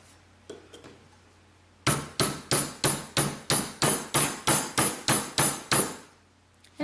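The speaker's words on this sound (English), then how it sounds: "And then I can use my rawhide mallet to come in and close the end of my ring." A rawhide mallet strikes a silver spoon ring about a dozen times in a quick, even rhythm, each crisp close knock ringing briefly, after a couple of faint taps.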